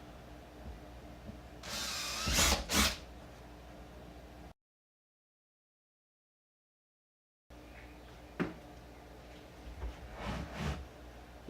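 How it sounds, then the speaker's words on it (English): A power drill bores mounting holes for a speaker pod in a 2009–2014 Ford F150, two short bursts of whirring and grinding close by, separated by a gap of silence and followed by a second pair of bursts. "Utilizing the correct drill with the correct size drill bit, drill the center of the mounting holes."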